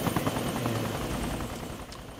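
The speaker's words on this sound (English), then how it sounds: "it's got a little funny helicopter" A small helicopter or gyrocopter idling at an occupied base in the Arma 2 DayZ Mod video game, a steady loud rotor thrum with chopping beats holding evenly throughout.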